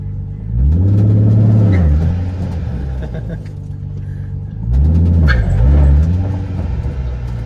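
A failing differential on a Nissan 350Z drift car makes a loud, deep rumbling drone. It swells twice with revving, easing back between the surges.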